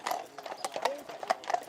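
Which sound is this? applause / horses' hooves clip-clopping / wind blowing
horses' hooves clip-clopping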